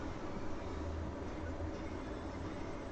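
A train in the video game Farming Simulator 22, a steady low rumbling drone with broadband rolling noise that holds evenly throughout, no speech over it.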